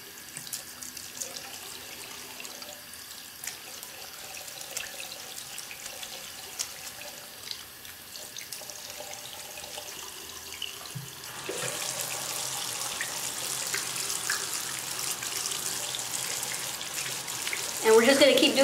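Tap water runs steadily into a sink as makeup brushes are rinsed. The flow is constant, with splashing and handling, and grows louder and fuller partway through.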